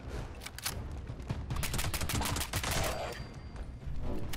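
Rapid bursts of gunfire in the video game Fallout 76, dense cracking shots in quick succession, loud and close throughout.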